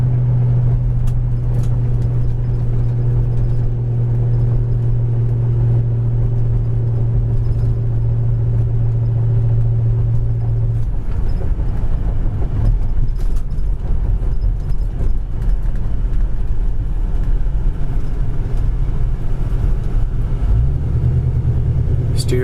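Onboard sound of a 1972 Pontiac Le Mans with a 350 V8 and dual exhaust on the move, a loud steady drone whose pitch shifts midway as it changes gear, with someone talking over it.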